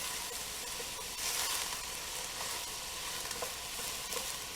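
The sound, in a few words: stirring green pepper in a pot of vegetarian chili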